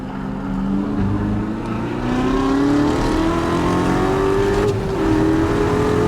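A Chevrolet Corvette C7 Z06 race car at Sebring at night roars loudly from inside the car, its engine pitch climbing steadily as it accelerates hard, with a brief shift near the end.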